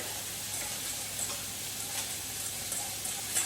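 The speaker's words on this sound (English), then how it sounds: "I'm gonna stir that all together" A pan sauce of fish sauce and brown sugar being stirred, heard as a faint, even sizzle with light, sparse spoon ticks, quiet and without voices.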